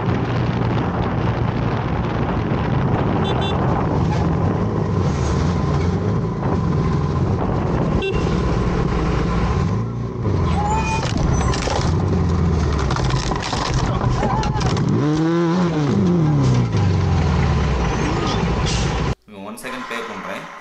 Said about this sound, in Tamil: ஆரன் சவுண்ட் எங்கே கேட்குதுன்னு பாருங்கள்.